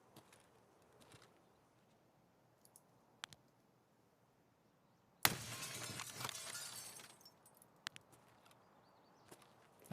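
Glass shattering from a gunshot fired through a window in Escape from Tarkov: a sudden loud crash with tinkling debris lasting about two seconds, set among quiet clicks and faint footsteps.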